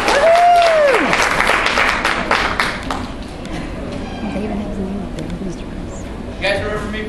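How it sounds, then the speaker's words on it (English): A room of children claps for Mr. Chris, a loud burst of applause at the start that gradually thins out, with talk and crowd noise underneath and scattered voices near the end. "You all give Mr. Chris a big round of applause and tell him thank you."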